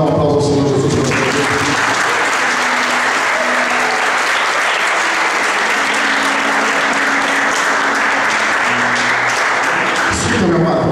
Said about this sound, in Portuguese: Vocês podem dar um aplauso ao Senhor Jesus.